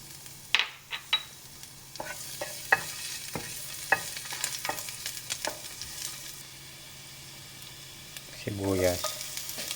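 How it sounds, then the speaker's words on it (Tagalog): Garlic sizzling in a hot pan with scraping and clinking of a utensil stirring, repeated irregular knocks, close and fairly quiet. "Umpisa natin mag-gisa ng bawang."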